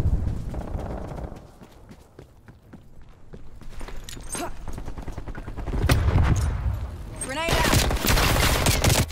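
Heavy gunfire in Call of Duty: Cold War multiplayer, with rapid bursts of automatic shots, scattered single cracks and footsteps, loud and continuous, with a player's voice talking over it.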